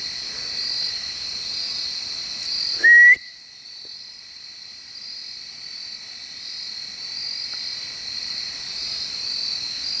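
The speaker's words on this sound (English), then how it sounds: "I heard a whistle. There's a whistle. That was a whistle." A single short rising whistle rings out once against a constant chorus of night insects, then the woods settle back into steady chirring.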